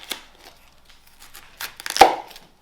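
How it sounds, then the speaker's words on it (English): A heavy cleaver chops through a whole head of cabbage, with a few light knife taps and rustles, then one loud, sharp crunching cut, close and alone. "The cabbage can be very hard to cut in half, so I use the cleaver."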